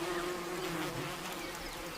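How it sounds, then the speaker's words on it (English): Tiny Rhopalidia wasps fan their nest brood by beating their wings on a sweltering spring day, a continuous close buzzing drone that holds steady and fills the whole stretch without any voices. "The adults beat their wings to fan the brood."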